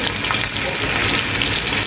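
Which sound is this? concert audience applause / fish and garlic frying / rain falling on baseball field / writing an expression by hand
fish and garlic frying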